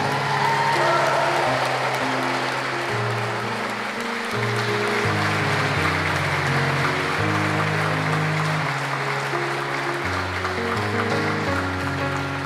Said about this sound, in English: And give a warm round of applause